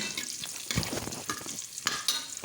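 Green chillies, cinnamon, cloves and curry leaves crackle in hot oil for tempering, making uneven bursts of sizzle and sharp pops with stirring in between, ending on a louder knock.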